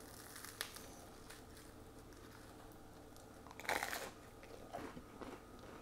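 Crunchy homemade Liège waffle snapped apart and bitten, a few sharp cracks followed by a louder crunching bite and smaller chews, close and quiet over low room noise.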